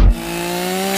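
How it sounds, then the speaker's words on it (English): A chainsaw rev in a song, a brief sharp attack followed by a sustained buzzing engine-like drone with steady pitched harmonics, loud and alone. "And then there's two chainsaw revs."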